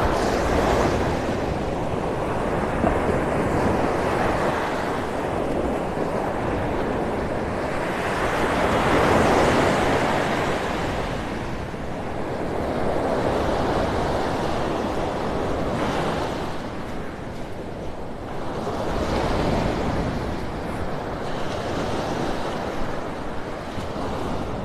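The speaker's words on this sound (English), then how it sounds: "Boy, the waves got everything stirred up here." Ocean waves break and wash steadily onto a beach at Vanderbilt Beach, Florida, in early morning, a continuous surf roar swelling and easing in several surges, with some wind buffeting the microphone.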